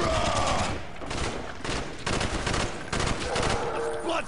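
Sustained rapid gunfire in the zombies mode of Black Ops 3, loud bursts of automatic shots overlapping in a dense, continuous barrage with brief dips, dominating the mix.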